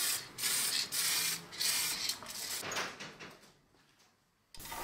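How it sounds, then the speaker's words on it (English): Hissing bursts from an aerosol spray paint can warmed in hot water, several close, steady sprays with short gaps that fade toward the end. "I've put the can of paint in hot water and it's made the spray a lot better."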